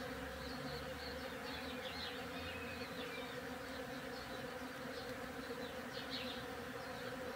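A bee buzzes steadily around someone outdoors, its faint, continuous drone hovering close with slight swells in pitch, over a constant low background hum and no talk.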